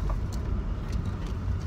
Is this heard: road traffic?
yes